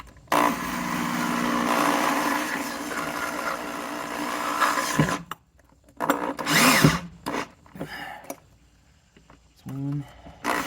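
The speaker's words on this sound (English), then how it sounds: "Here's my drill." An electric drill runs loudly for about five seconds while fitting an oil monitor reservoir on an Alpha 1 outdrive, then short bursts and clicks of handling follow, with a few gaps of near silence.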